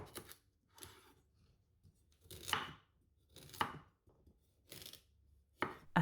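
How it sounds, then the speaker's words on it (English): A knife slices through a carrot in separate crisp cuts on a board, about six strokes at an unhurried pace, close and quiet. "Top and tail the carrot and slice that too."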